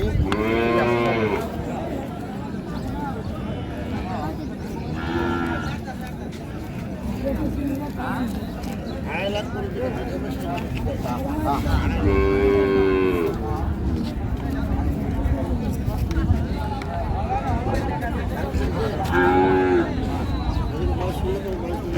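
Several loud moos from dairy cows at Raniganj cattle market in Dinajpur come at intervals, each a rising, drawn-out call, amid ongoing chatter and crowd murmur.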